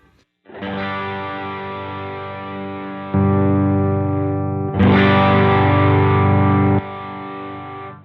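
An electric guitar chord rings out through a Michael Angelo Batio vintage overdrive pedal, sustaining for a few seconds, then is struck again louder twice, each warm distorted chord held and decaying.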